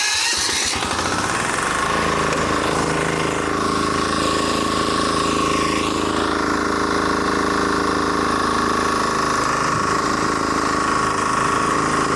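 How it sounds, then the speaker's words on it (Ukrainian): A Kentavr 2010 DE diesel walk-behind tractor runs steadily and loud at close range, its engine rattling on without a break after an abrupt start. "просто запустив мотоблок, ще й мотоблок з електростартером"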